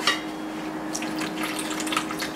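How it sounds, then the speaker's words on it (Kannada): Water is poured from a quarter cup into a bowl of semolina mixed with salt and a drop of oil, giving a short, close trickle and splash with a steady low hum behind it. "ಫಸ್ಟೊಂದು ಇಷ್ಟು 1/4 ಕಪ್ ನೀರು ಹಾಕಿ"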